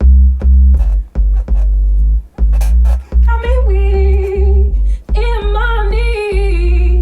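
A deep, sustained bass line throbs steadily beneath a vintage-sounding sampled loop, joined midway by brighter melodic tones.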